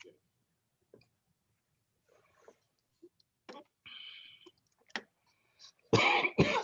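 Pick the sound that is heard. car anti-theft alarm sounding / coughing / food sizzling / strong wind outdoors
coughing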